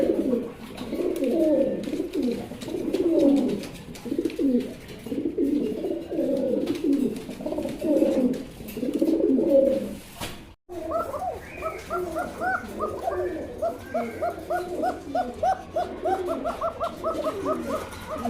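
A male fancy racer pigeon coos up close in a steady run of repeated throaty, rolling calls, followed after a short break by a quicker series of higher, pulsing coos.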